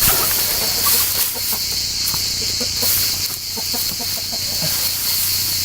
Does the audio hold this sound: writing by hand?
no